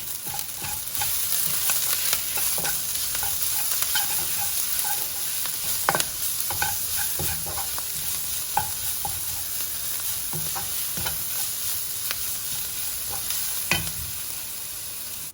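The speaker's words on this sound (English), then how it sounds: "In goes the grated ginger and garlic, and I'm going to cook this for another minute or so." Grated ginger and garlic fry in a pan for a black-eyed bean curry, giving a steady close sizzle with scattered scraping and stirring clicks throughout.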